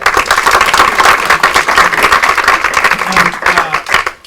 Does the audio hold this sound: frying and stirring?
no